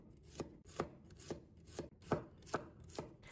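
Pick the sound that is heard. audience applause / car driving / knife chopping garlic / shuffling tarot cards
knife chopping garlic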